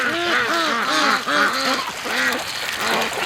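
A small-bodied duck at a lakeside free-range flock quacks repeatedly in rapid, overlapping bursts, close and loud, with other fowl joining in.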